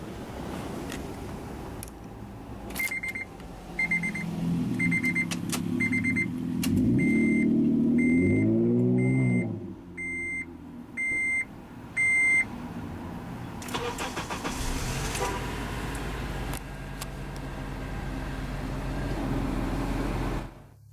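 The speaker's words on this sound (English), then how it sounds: "Now that we're in the vehicle, let's go ahead and start her up." A 2004 Honda Element EX cranks briefly and starts, settling into a steady close idle with a revving swell, while door chimes beep repeatedly in the cabin before the engine calms to a low hum.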